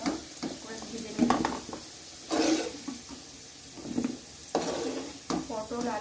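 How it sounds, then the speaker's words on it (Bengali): Potatoes and pointed gourd frying in a pan with a little turmeric, soft sizzling broken by several bursts of stirring and scraping, close and fairly quiet. "পটল আলু এইভাবে ভেজে নেব।"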